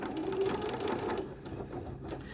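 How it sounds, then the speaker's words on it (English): Sewing machine running steadily as it stitches quilt pieces along a marked line for a Diamond Wedding Ring quilt, a close, continuous mechanical whir with rapid needle clatter, starting with a short backstitch. "I'm going to backstitch just a little bit there, sewing on the line all the way across"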